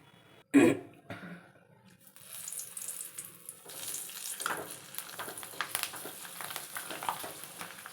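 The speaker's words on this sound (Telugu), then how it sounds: "రెండు మూడు రోజుల తర్వాత ఆరాక ఇలా ఆయిల్లో వేయించుకోవాలి" Sun-dried ravva vadiyalu, semolina fritters, drop into hot oil with a sharp splash, then settle into a steady bubbling, crackling sizzle that builds and continues close up.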